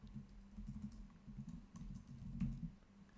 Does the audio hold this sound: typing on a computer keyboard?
yes